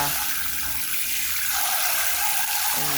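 Glutinous sticky rice is washed in water, with a steady, fairly loud rush of running water and sloshing that continues throughout.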